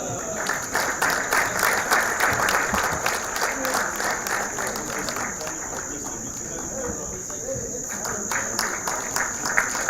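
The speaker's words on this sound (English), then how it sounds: "May we clap for that." Applause from the audience at the 2024 Mentorship Leadership Awards Luncheon, held at State House in Entebbe, continues steadily throughout the clip with a dense wash of clapping, and a constant high-pitched tone sits on top of it.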